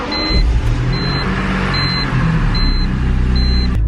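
A BMW E46 M3 engine starts and settles into a steady, loud low rumble close by, with a repeated faint high chirp running throughout.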